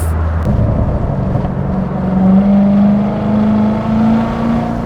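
A 2019 C7 Corvette Z06 (650 hp) accelerates from inside the cabin, its engine note rising steadily through the revs in a loud, continuous drone.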